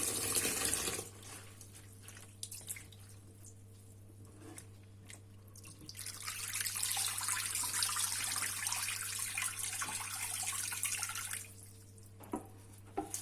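Running tap water pours steadily over fresh garden leeks being washed in a sink, a continuous splashing flow that grows fuller and brighter midway with a few drips and clinks, no talking.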